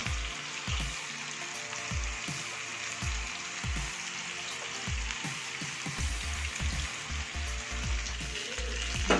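Rambeu fish frying with margarine in a Teflon pan, a continuous close sizzle with repeated popping and crackling spatters.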